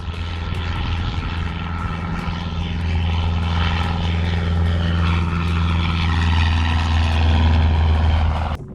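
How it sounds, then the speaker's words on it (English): A light propeller airplane roars past low during a go-around, its engine droning loud and steady and building in power toward the end, with a deep continuous hum underneath and no talk. "ooh, little Sammy's landing. Hold on, wait, look. Oh, did a go around"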